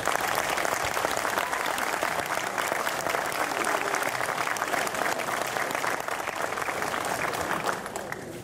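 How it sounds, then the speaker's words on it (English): Sustained applause from a graduation ceremony crowd at an I.T.T. Technical graduation in Houston North, 2014, as supporters of the graduates are honored; dense, steady clapping fills the hall throughout without pause. "Stand up and give those folks a round of applause for helping you get here tonight"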